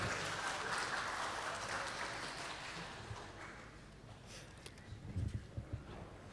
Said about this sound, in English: please give applause for the book launching for this morning